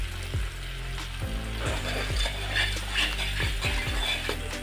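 Cashews fry in hot oil in a pan for a spinach and potato curry, giving a steady sizzle with regular mechanical ticks and scrapes beneath it, close and fairly loud, with no one speaking.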